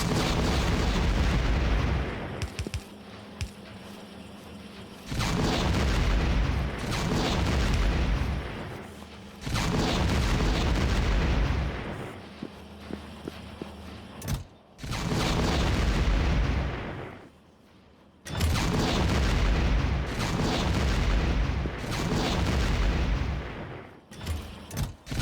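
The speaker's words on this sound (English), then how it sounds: "Explosion!" Repeated loud explosion bursts from the Factorio video game, heavy booming blasts with rumbling tails arriving in clusters separated by brief near-silent gaps, no talk.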